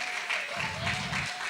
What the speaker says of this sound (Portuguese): Você pode dar um aplauso aí ao Senhor pela sua vida.